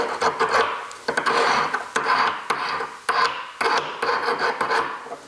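A goldsmith filing gold or silver with a hand file, rhythmic rasping strokes about every half second to a second, close and steady with no talk.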